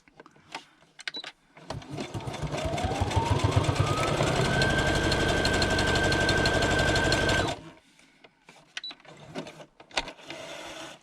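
Sewing machine stitching through journal pages, a close, loud continuous whirring run of about six seconds with a rising motor pitch, set between short bursts of handling clicks and rustles.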